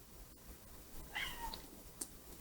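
A pet cat named Ari gives a faint, brief meow in a quiet room, heard against a hissy background with no one speaking.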